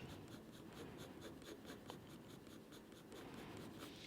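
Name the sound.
colored pencil drawing on pastelmat paper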